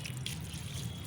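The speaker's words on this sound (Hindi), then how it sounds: "इसमें थोड़ा सा आप पानी डाल दीजिए।" Water trickles into a small plant pot of soil holding a portulaca (moss rose), a soft, steady pour with no talking.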